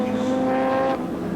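Ford Sierra touring cars racing at Amaroo Park, a loud, high-revving engine roar held steady close by, then dropping in pitch as a car passes and moves away.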